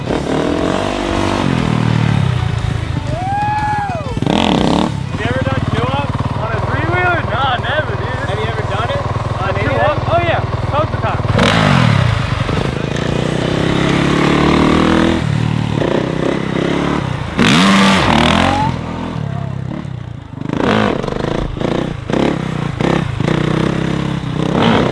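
A Honda CRF 450 three-wheeler revs and accelerates up close while being ridden on wheelies. The engine note rises and falls repeatedly, with clatter and scraping in between, and people talk over it.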